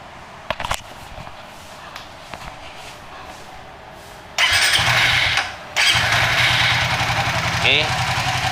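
Suzuki GSX 150 fuel-injected motorcycle with a 68mm bore-up, heard from quiet ticking and clicks before the engine cranks and catches, then idles loudly and close, briefly dipping before settling into a steady idle.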